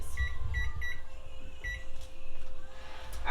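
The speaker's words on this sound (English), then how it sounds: "let me set the timer back for 30 minutes" A kitchen oven timer gives a short series of high electronic beeps, then a pair more, close by in a quiet room with no one talking.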